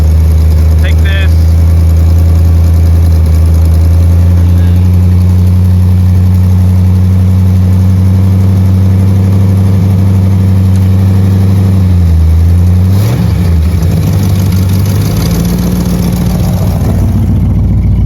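A 1984 Chevrolet Corvette engine idles high at around 2,000 RPM while warming up, a loud steady low drone up close that dips and shifts near the end, with a person speaking over it.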